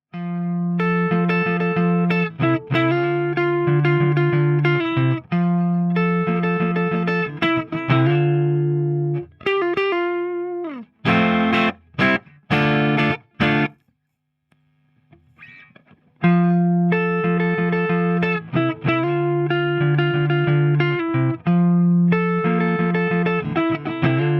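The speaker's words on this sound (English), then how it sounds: "the Macmull S-Classic straight into the amp sounds like this" Clean electric guitar, a Macmull S-Classic played straight into an amplifier, strummed chords and picked notes ringing with sustain, a few brief pauses and a short gap near the middle.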